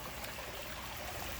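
Small waterfall splashing steadily into a 6000-gallon backyard pond lined with gravel and river rocks, a continuous close, even rush of trickling water with no voices.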